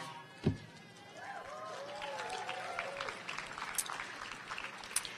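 A graduation audience applauds, a broad, steady wash of many hands clapping at moderate distance, with a sharp knock near the start and scattered voices and faint cheers mixed in.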